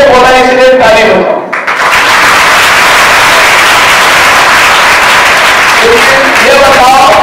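An audience at a Brahma Kumaris moral education program in Latur breaks into loud, sustained applause lasting several seconds, with voices before and after it.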